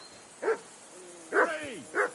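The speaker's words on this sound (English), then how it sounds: "Jesus, Henry, that barking's driving me nuts." Dog barking in the video game Kingdom Come: Deliverance II, with three distinct barks spaced irregularly over a quiet background, the middle one trailing into a falling whine.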